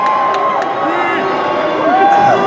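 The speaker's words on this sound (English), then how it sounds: "Why are they booing you?" Convention hall audience at a ComicCon reunion panel booing in a sustained crowd roar, with a loud voice on a microphone talking over the noise.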